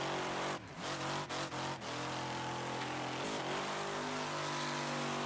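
A car engine in the Wreckfest racing game revs after a downshift to third gear, a loud steady engine drone with a few quick dips and pitch shifts early on before holding a sustained high-revving tone.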